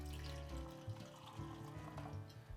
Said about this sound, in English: Giving it a quick pour into the glass.